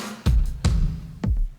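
Soloed drum bus from an indie pop rock mix in Logic, with three punchy kick-and-snare hits in an irregular pattern, close and dry.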